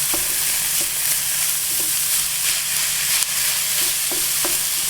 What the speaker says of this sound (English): now I'll add the mince and cook that off as well